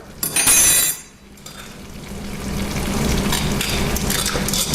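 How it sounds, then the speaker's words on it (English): Cooked linguine being mixed with Parmesan and butter in a pot, opening with a brief bright metallic clatter, then a soft continuous wet stirring and faint sizzle that swells and persists close by, with no talking. "We'll mix it up with that Parmesan that we have."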